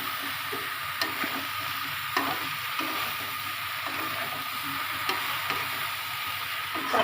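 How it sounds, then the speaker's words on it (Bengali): Okra sizzling in hot spiced oil in a pan, a steady broad frying hiss with occasional sharp pops and stirring clicks, close and continuous. "মশলাটায় তেল উঠে গেছে, আমি ঢেঁড়স ঢেলে দিচ্ছি।"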